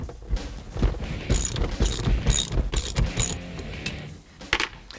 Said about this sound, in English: And undo these 2 bolts right here.